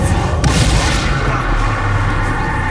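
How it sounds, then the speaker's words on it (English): A loud, rumbling blast fills the space, settling into a dense roar that slowly fades; a spell-triggered explosion in the video game Hogwarts Legacy. "Explosion!"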